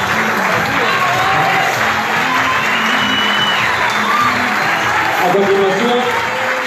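A crowd claps and cheers steadily and loudly throughout at a political campaign launch for a city council candidate in Posadas, with a voice speaking briefly over the applause.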